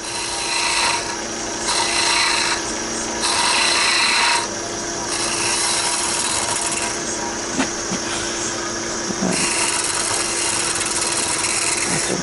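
Wooden wine stopper being rounded off with a tool, a steady rasping, rubbing scrape that runs through the whole stretch in bursts of varying intensity, close and fairly loud, with no talk.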